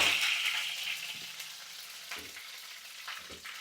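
Green chillies and curry leaves fry in hot mustard oil, crackling and hissing loudly at first, then settling to a softer sizzle with occasional pops; no one speaks.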